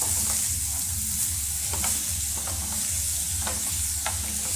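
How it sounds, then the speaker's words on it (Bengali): Beetroot and carrot with a spoon of salt in a frying pan, a constant hiss of frying under regular scraping strokes of a spatula roughly every half second, close up with no voices. "এক চামচ নুন দিয়ে নাড়াচাড়া করে আমি একটু করে চাপা দিয়ে দিয়ে নাড়াচাড়া করব, তাহলে সেদ্ধ হয়ে যাবে কি বিট গাজরটা।"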